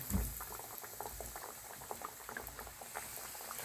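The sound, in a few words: chicken tender frying in oil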